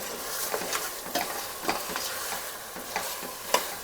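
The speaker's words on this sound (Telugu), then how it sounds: "ఇప్పుడు దీనికి మనం అల్లం వెల్లుల్లి పేస్ట్ వేసుకుందాం వేసుకొని ఇలా తిప్పుకోవాలి" Mutton pieces frying with ginger garlic paste for a home-style curry, stirred in a pan: soft steady sizzle punctuated by repeated spatula scrapes and clinks roughly every half second, close and quiet, with no speech.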